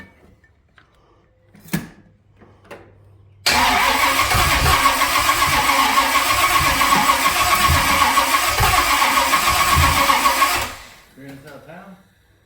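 A stock Pontiac 350 V8 with a mechanical fuel pump slow to draw fuel cranks loudly with a rhythmic, chugging starter churn for about seven seconds, then cuts off; brief voices sound in the quiet before and after.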